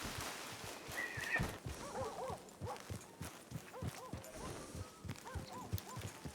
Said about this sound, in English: go get your horse